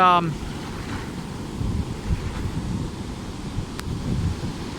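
Powerful Pacific Ocean waves rolling and washing at sunset, a steady low roar of surf with wind buffeting the microphone, loud and continuous with surges every second or so.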